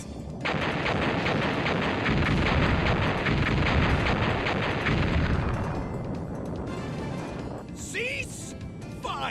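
Heavy artillery fire in the Mega Man Legends video game, a loud continuous roar of booming shots and blasts that thins out toward the end, followed by a few sharp electronic chirps.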